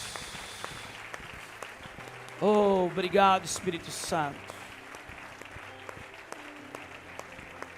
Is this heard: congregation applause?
yes